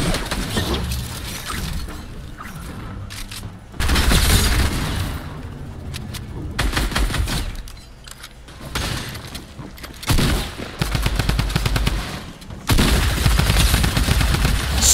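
Drum gun fire in Fortnite comes in loud, dense bursts of rapid shots, with harsh impacts and brief breaks between volleys, up close and continuous across the stretch.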